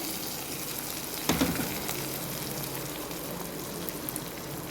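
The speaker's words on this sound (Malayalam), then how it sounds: "താളിച്ചത് ഇതിനകത്ത് ഒഴിക്കുവാണ്." Hot tempering is poured over pumpkin pachadi dusted with Kashmiri chilli powder, giving a quick burst of sizzle followed by a low, steady hiss that continues quietly.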